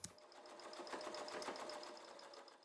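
A sewing machine top-stitches red fleece, a steady fast needle rhythm running close and moderately loud for a few seconds with no talk.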